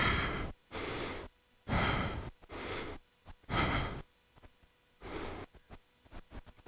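Slow, deep breaths during a guided joint-freeing exercise, a steady rhythm of long airy inhales and exhales about a second each, close and fairly soft, with brief quiet gaps between.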